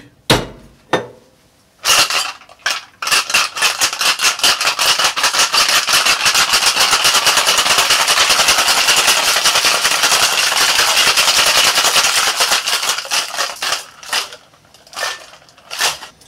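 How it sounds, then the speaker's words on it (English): Cocktail shaker with ice shaken hard while mixing a creamy, spicy drink, a few loose rattles and then about ten seconds of fast, loud, continuous ice clatter, tapering into scattered knocks. "Let's get some ice for our shaker and let's give this bad boy a shake"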